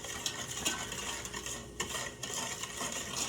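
A whisk stirs ingredients together in a bowl, with sugar dissolving, giving a steady close scraping and clinking swirl with small repeated taps against the bowl's side.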